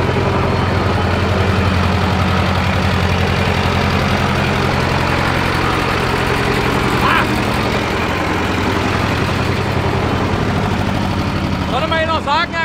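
Tractor engine running loud and rough while the machine spins donuts, a dense continuous mechanical roar with knocking texture, close and steady throughout.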